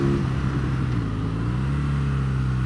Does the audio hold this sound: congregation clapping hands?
no